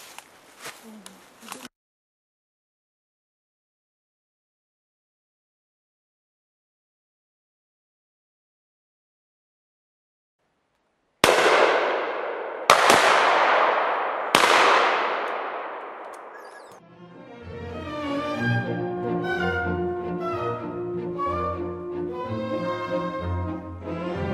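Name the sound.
rifle gunshots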